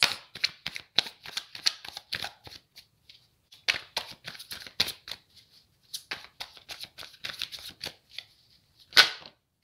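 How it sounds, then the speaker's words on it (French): Tarot cards shuffled by hand and then drawn, a run of quick crisp riffling flicks and snaps in bursts with short pauses, close and alone with no talk, ending in a sharper slap. "On va regarder avec le tarot ce que ça donne là sur ce week-end. Allez, je prends 3 cartes."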